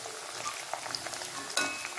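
Fish pieces sizzling in masala in a pan for fish pickle, a soft steady crackle with scattered pops and one sharper burst near the end.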